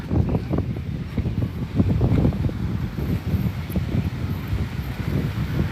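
Steady wind buffets the microphone on the beach at a kite festival in Pattaya, a continuous low rumble with gusty swells and no speech.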